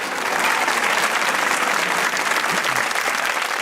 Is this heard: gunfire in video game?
no